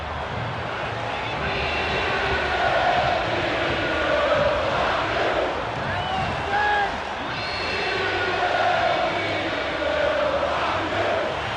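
A large baseball stadium crowd roaring and cheering at a Mets World Series game in 1986, a broad sustained roar that surges and dips under a narrator's voice.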